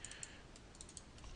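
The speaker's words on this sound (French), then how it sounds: "j'appuie sur supprimer sur mon clavier" Computer keyboard keys tapped in a quick, light run of soft clicks, close and fairly quiet, with no talking.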